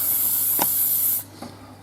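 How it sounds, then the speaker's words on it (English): Aerosol cleaning spray is squirted onto a tissue during shotgun maintenance: a steady close hiss that cuts off abruptly, followed by a faint quiet tail. "the tissue with some more Leisure spray, give it a wipe"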